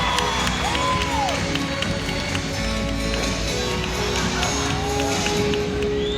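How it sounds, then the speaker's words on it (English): Gymnastics teammates shouting and cheering from the sidelines during a floor routine at a Mizzou at Auburn meet, continuous excited voices and whoops over a busy arena crowd. "Their teammates cheer on from the side."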